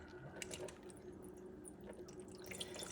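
Water poured off dried beans soaked for hours, a steady low splashing and dripping into a sink, continuous and fairly faint throughout.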